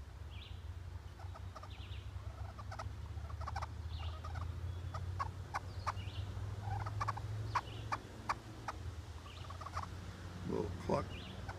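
Slate turkey call imitating the quiet, content clucks and purrs of a feeding hen turkey: soft scattered clicks and short yelps in irregular bursts over a low steady hum.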